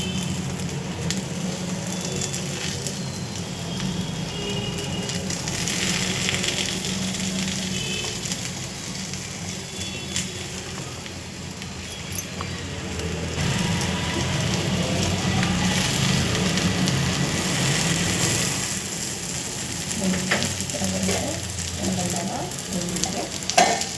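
Akki rotti, a rice flatbread, cooking in a pan over low heat, giving a steady soft sizzle with light crackling and occasional scraping, close and moderately quiet, with no talk over it.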